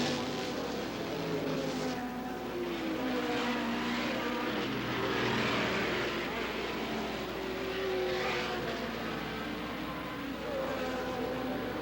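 A 1982 Can-Am race car pulls away at Mosport after a pit stop, its engine a broad, loud roar that swells and fades steadily, with racing noise all around and no talking.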